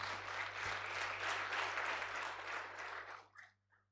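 Audience applause at a medical laboratory science induction ceremony, a dense sustained burst of clapping from a crowd that holds steady for about three seconds, then thins out and stops with a few last claps.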